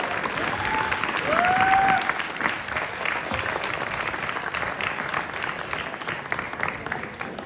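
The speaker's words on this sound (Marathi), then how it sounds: "एकदा जोरदार टाळ्या झाल्या पाहिजेत सर्व ऍक्टर्स आणि कलाकारांसाठी" Audience at a stage drama performance applauding the actors, a sustained, moderately distant clapping from a crowd with a brief swell early on, with a little background voice mixed in.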